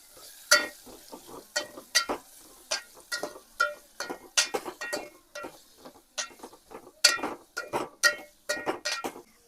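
A spatula scrapes and clinks rhythmically against a pan as garlic, ginger, chilli, onion and tomato are stirred, sharp repeated strokes every fraction of a second over a faint sizzle, close and without talk.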